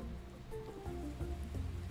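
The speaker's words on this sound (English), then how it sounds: "Oh, it's raining today." Gentle rain patters steadily in the farming video game Roots of Pacha, a soft, continuous wash of drops with a low rumbling ambience beneath it; no speech.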